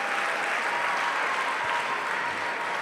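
Steady applause from a gala audience filling the room, dense and continuous clapping at an even level throughout with no voices standing out.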